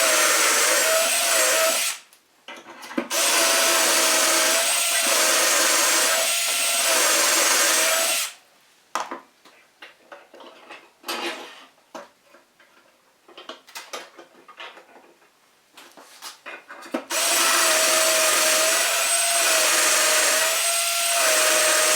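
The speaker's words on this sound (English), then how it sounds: "So I just need to drill my holes, go down the line up until I get to the end." A drill bores dowel holes through a DowelMax jig into cabinet stock, loud whining bursts of several seconds at the start and end, separated by quieter clattering and handling noises in the middle.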